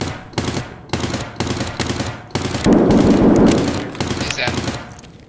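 Rapid automatic gunfire from an HK rifle in Escape From Tarkov on the Factory map, loud close bursts of shots repeating through the clip with a dense sustained volley in the middle, a voice faintly present.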